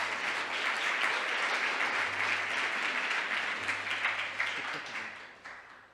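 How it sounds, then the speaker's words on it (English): A crowd at an education exchanges panel event marking 50 years of New Zealand and Chile embassies gives dense, sustained applause that stays loud and steady before thinning out near the end. "let's welcome Lisa with a huge round of applause"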